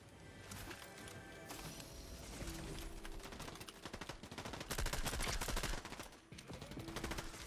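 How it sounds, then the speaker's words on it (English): Shotgun and other gunfire crackle through a Fortnite match in dense, rapid volleys, loud and continuous with brief breaks, with no talking over it. "Someone had to run off here because I was shooting at him."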